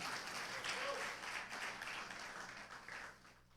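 A church congregation claps hands together during a sermon, a steady moderately distant wash of clapping with faint voices mixed in, fading slightly toward the end.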